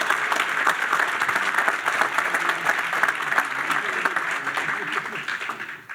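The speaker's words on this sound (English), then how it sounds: "Give him another round of applause, please." A large audience at the Kiwanis Club of Indianapolis's 45th annual Abe Lincoln Awards ceremony claps in a loud, sustained round of applause, a dense even wash of hands with voices faintly beneath it.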